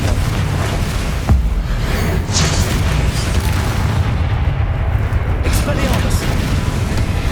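In Hogwarts Legacy, a Confringo blasting spell explodes as a loud, heavy boom with one sharp impact early on, followed by a continuous rumbling roar that stays dense and close throughout.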